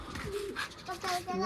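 Pigeons cooing close by in soft, rounded bursts, several overlapping calls across a short stretch, with a faint voice mixed in underneath.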